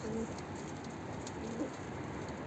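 A pigeon coos softly in the background amid a faint, steady noisy ambience.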